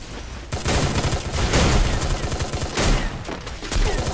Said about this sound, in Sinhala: බින් එහා පැත්තෙන් ඉසුරු ස්නයිපර් ෂොට් එකක් ගත්තා හෙඩ් ෂොට් එකක් හරිද